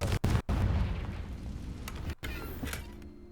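Confringo fire spell blasting in the video game Hogwarts Legacy: a dense, sustained roaring burst with crackling boom texture, loud and close, briefly cut by sharp gaps before a trailing rumble.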